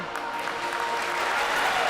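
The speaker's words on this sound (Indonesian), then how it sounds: "sebuah tepuk tangan tanda pertandingan dimulai" Applause from spectators marking the kickoff of a futsal league match, Tamar Futsal versus EKS Futsal, a steady wash of clapping with faint voices mixed in.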